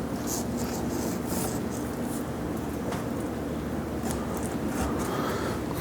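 A knife cutting through honeycomb during a honey harvest makes a steady, close rasping and scraping sound that runs without pause, with brief brighter scratches on top.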